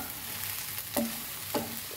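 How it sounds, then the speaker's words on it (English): Okra fries in a pan with a soft, steady sizzle and crackle, broken by two brief scraping clicks of a stirring utensil, close and alone with no talk. "that will go if you fry this way"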